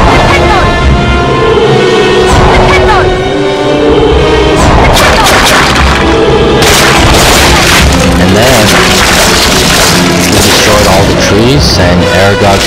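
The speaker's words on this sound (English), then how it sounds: "And then we have one more tree to destroy." A tree is smashed in the Harry Potter and the Chamber of Secrets PS1 game, set in the Forbidden Forest: loud repeated booming crashes and thuds over constant game music, filling the whole stretch.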